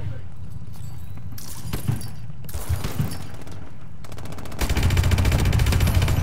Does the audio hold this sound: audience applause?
no